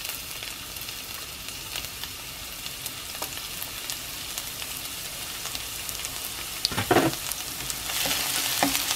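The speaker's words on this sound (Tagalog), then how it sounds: "hintayin lang natin na medyo matoast ng konti itong garlic" Garlic toasts in a cooking pan, giving a steady, even sizzle close by with scattered small pops and one brief louder clatter near the end.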